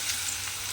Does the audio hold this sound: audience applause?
no